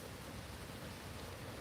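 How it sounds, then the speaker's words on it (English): Rain falling outdoors as a constant, even hiss with no breaks, faint and steady throughout. "It's raining."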